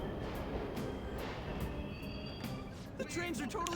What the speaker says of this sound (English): That's the train, Ryuji.